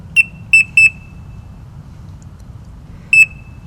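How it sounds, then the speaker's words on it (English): A fishing bite alarm on a lake at night gives short, sharp electronic beeps: a quick cluster of three, a pause, then one more, loud and close against a quiet low background. "they think it's their buzzer that's going"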